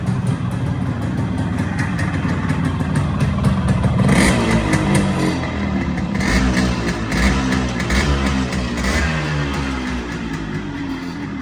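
A Yazdi motorcycle with a freshly rebuilt engine running close by, idling with a steady throb and occasional revs swelling and easing.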